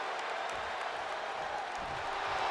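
A steady, broad crowd roar fills a wrestling arena in the WWE 2K25 video game, loud and continuous throughout without breaks.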